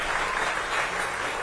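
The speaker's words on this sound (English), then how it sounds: "Let's give all of our candidates a round of applause." A crowd at a U.S. Senate candidates' stump stop claps for the candidates, a steady, dense burst of applause lasting about a second and a half.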